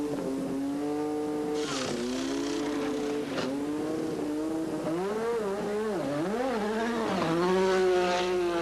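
Formula 1 cars from the 1986 season, Senna's and Mansell's, racing out of the pit lane and along the track, with high-pitched engine whine climbing and falling through gear changes, continuous and fairly close, no voices.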